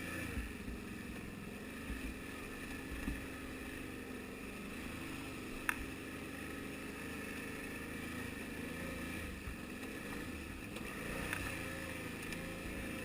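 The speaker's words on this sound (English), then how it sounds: "we're on a four-wheeler and it's got four-wheel drive" A 2012 Can-Am Outlander 800XT four-wheeler riding a rocky trail, a low, steady engine drone with rattles and occasional knocks, faint and continuous throughout.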